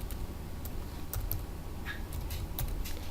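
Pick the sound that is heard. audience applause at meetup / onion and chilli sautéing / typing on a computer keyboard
typing on a computer keyboard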